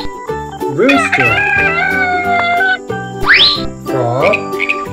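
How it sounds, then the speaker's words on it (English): Loud electronic rooster crow from a farm animal toy set with a green tractor, one long stretched cock-a-doodle-doo followed by shorter rising squawks, close and tinny. "Rooster."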